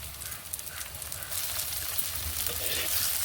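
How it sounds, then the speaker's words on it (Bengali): Tomato and green chillies fry in a pan with taro and small fish, a dense close sizzle that swells slightly louder partway through, with faint stirring underneath. "সব কিছু ভালোভাবে ভেজে নেব"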